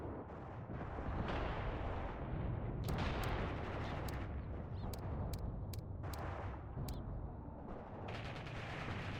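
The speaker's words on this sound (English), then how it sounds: "I don't know what guns these are, but they sound and look heavy" In the war game Mius Front, heavy guns boom in a rumbling, continuous barrage, with sharp distant cracks punctuating the dense low roar of battle.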